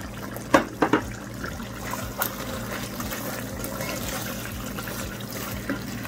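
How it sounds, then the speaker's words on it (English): Water is poured into a cooking pot of Jamaican brown stew oxtail with tomato and scallion, giving a steady, close trickling splash with a few sharp clinks near the start. "Add some more water to your pot."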